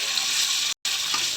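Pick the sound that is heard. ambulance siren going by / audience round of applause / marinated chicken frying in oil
marinated chicken frying in oil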